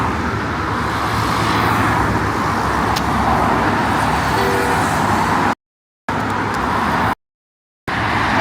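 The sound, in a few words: cars driving on a one-way road in Abuja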